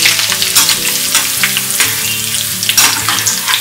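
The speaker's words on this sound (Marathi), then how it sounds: "हे पोहे आहेत ना, थोडेसे मी फ्राय करून घेणार" Poha (flattened rice) frying in a pan, a loud close sizzle with crackling bursts, heard over background music, no talking.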